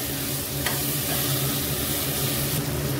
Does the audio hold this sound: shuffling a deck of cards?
no